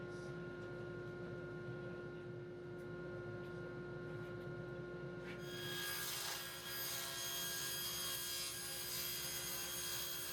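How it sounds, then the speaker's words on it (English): A saw cuts through a full sheet of plywood: low steady noise gives way about halfway to a loud, bright, sustained cutting roar that continues to the end, close by. "Cutting full sheets of plywood in 100-degree heat is no joke."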